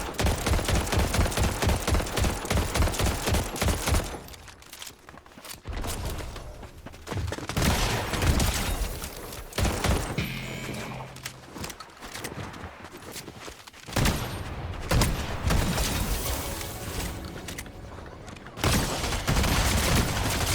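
Rapid bursts of automatic gunfire in Fortnite, rattling volleys that start and stop across the stretch with brief pauses and boomy hits, heard close and loud with faint talking mixed in.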